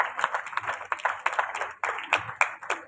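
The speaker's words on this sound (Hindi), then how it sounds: "तालियां जोर से बजा दो भाई" An audience claps during a Modicare success-story event, a dense patter of hand claps running steadily for a few seconds at moderate distance, with no voices over it.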